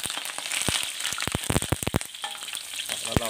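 Sliced bananas deep-frying in hot oil, a steady close sizzle dotted with sharp pops and crackles, loud and alone with no voices.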